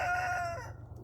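A rooster crows once nearby, a drawn-out call trailing off into quiet outdoor background.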